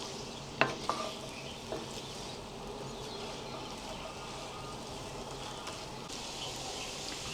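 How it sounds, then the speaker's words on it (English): Onions are gently stirred through melted fat in a pan for caramelizing, a soft continuous sizzle with a few faint utensil taps near the start. "And just gently move the onions around the pan."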